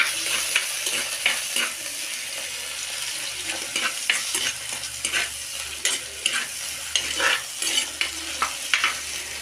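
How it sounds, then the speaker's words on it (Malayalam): Onion and a small tomato fry in a pan for a Kerala mackerel curry with kudampuli, a constant sizzle under busy, uneven scraping and clatter of a spoon stirring, close and with no talking. "നല്ലവണ്ണം വറുത്തിയെടുക്കാം"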